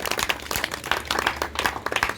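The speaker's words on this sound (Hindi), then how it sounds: "भाई अच्छा लगा तो एक ताली बजाइए" An audience claps steadily at the close of a Buddhist ceremony, a dense patter of overlapping hand claps heard fairly close and without pause.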